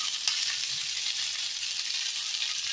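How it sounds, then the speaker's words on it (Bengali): Ingredients for chilli chicken stir-frying in a pan, a steady bright sizzle throughout with a faint scrape of stirring, no voices. "খুব ভালো করে একটু নাড়াচাড়া করে ভাজা ভাজা করবো।"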